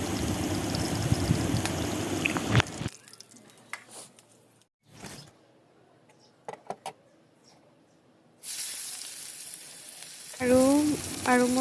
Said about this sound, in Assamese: আৰু এসাইডে মই মাছ কেইটা ভাজি আছো